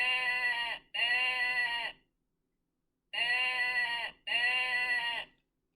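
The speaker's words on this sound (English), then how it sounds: "Sheep have woolly coats, and they say ba, ba." Electronic sheep bleats play from a sound button in a children's animal book: two pairs of identical bleats, each pair back to back, separated by a short silence.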